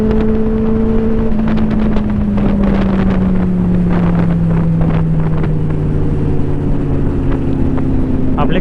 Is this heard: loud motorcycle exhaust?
yes